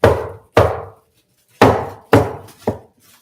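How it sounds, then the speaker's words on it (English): Loud, sharp bangs from a frozen papaya being struck to break it apart, five close impacts in an uneven rhythm with brief gaps of silence between them. "I got to break it over here behind the camera. Sorry for the banging noise."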